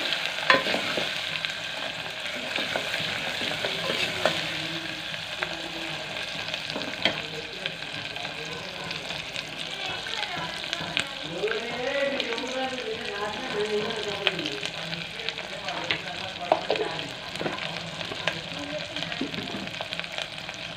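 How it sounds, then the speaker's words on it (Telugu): Ginger paste fries and sizzles in a pan for mutton mango curry while a spoon stirs it steadily, with repeated scraping strokes over a constant close hiss and faint background voices. "అల్లం పేస్ట్ పచ్చివాసన పోయేంత వరకు బాగా కలుపుకోవాలి."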